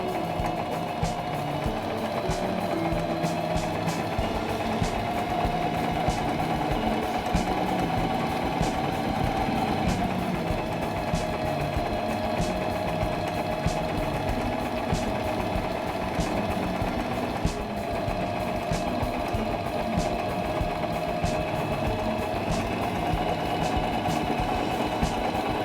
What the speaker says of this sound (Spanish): Coloca un cuadro de tela debajo del prensatelas y comienza a coser